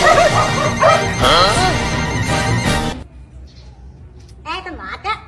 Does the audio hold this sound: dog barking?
yes